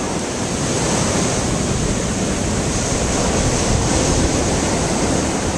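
Sea waves wash onto a tropical beach in the aftermath of a storm, a dense continuous roar of surf with wind noise, loud and steady with no pauses.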